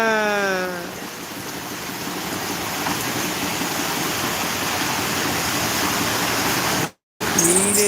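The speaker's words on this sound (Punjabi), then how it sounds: "ਦੇਖੋ ਕਿਵੇਂ ਪਾਣੀ ਚੱਲੀ ਜਾਂਦਾ" Water rushes steadily through a village canal in rural Punjab during rain, a loud, continuous broadband roar, briefly cutting out near the end before other sounds resume.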